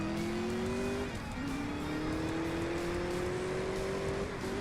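A tier 4 race car in the CSR2 mobile racing game accelerates hard on nitrous, its engine whine climbing steadily through upshifts under a loud, continuous roar.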